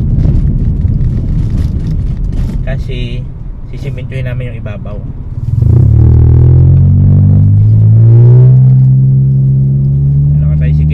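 A motor tricycle's engine drones steadily, its low hum swelling and rising in pitch partway through, beneath continuous nearby talking.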